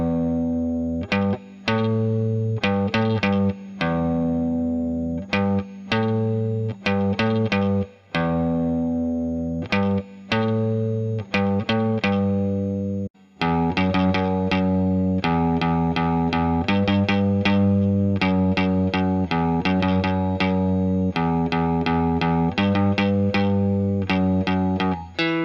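An electric guitar with distortion and effects plays a beginner riff several times in a row, loud and steady with repeated rhythmic phrases and brief gaps between passes, no talking.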